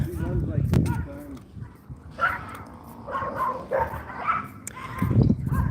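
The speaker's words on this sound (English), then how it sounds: "Time for the romp along the fence with the other dogs." Dogs romp along a backyard fence, barking in short bursts near and farther off while a person talks over them.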